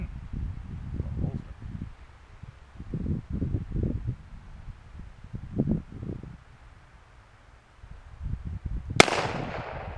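.44 Colt cap and ball revolver fired once at a cinder block outdoors, a single sharp loud report near the end after a stretch of low rustling and wind.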